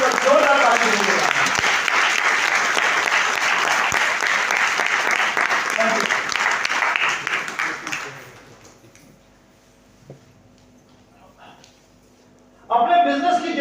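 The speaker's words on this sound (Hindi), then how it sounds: "मैं चाहूंगा आप सभी अपने ऊपर जोरदार ताली दीजिएगा" A large crowd at a direct-selling business meeting claps loudly and densely for about eight seconds. The clapping then fades to near silence before a voice starts speaking.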